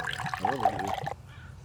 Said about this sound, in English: Here, I'll just pour it.